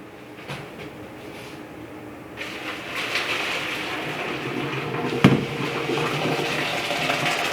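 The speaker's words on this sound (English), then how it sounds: "And then I rinsed my pasta, but you don't have to." Cooked gluten-free pasta is rinsed under running tap water in a home kitchen. A steady hiss of flowing water starts a couple of seconds in and continues, with a single sharp clunk partway through.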